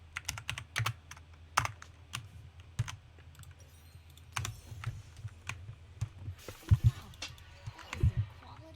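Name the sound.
typing quickly on a computer keyboard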